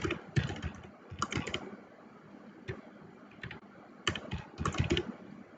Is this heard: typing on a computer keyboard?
yes